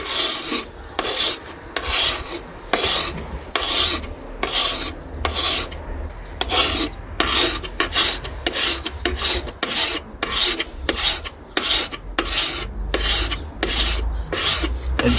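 A wet whetstone files a hoe blade in steady rhythmic strokes, each rasping scrape coming close and loud at a regular pace with short pauses between passes, no talking.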